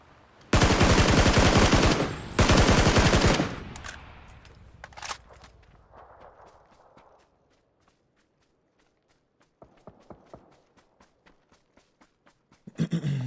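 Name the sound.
gunshots in the video game PUBG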